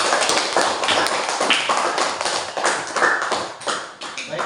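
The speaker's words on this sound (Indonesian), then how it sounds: "Tepuk tangan dulu." Students in a classroom clap after a presentation, a close, brisk patter of many hands that swells and dips, with a few sharper taps standing out before it thins toward the end.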